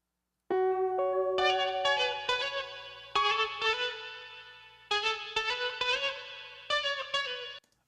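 A guitar-like tone run through effects such as distortion, chorus and echo plays a series of bright sustained notes and chords in short phrases with pauses, clear and alone with no talk.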